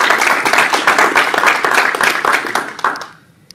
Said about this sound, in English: So if we could please give another round of applause for them.